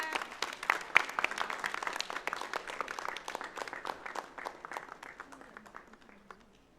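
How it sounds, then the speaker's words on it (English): An audience at an inauguration ceremony claps for a runner-up team, dense steady applause that gradually thins and fades toward the end. "Please give a big clap."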